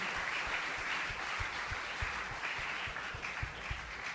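A church congregation applauds in praise during a Christian sermon, a steady sustained clapping from many people with a few sharper individual claps standing out in a loose rhythm.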